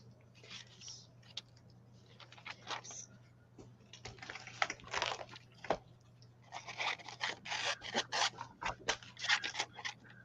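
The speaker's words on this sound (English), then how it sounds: "Those huge scissors kill me." Large scissors snip repeatedly during a crafting session, a run of quiet, crisp cutting clicks and scrapes at close range over a steady low hum, with brief pauses between bursts.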